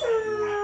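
A breeding dog in a Vietnamese kennel keeping Husky, Golden and Corgi dogs lets out a short, close, clear howl that rises slightly and then holds steady.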